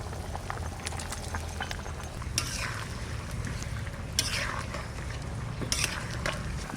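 Boiled potatoes and tomatoes being stirred in a pan, with soft scraping and clinking of a utensil against the metal spread through a steady low background hum, a few sharper clinks standing out.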